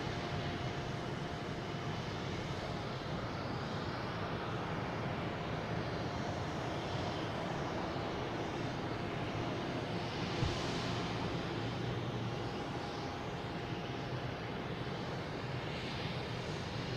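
A Southwest airliner at Boston Logan airport produces a sustained, moderately loud engine roar and hiss, steady throughout with slight rises and falls, and no voices.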